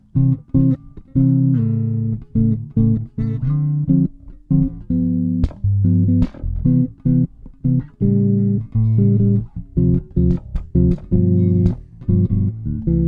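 A low, plucked bass line moves through choppy, separated notes in a bouncing rhythm, played alone and up close.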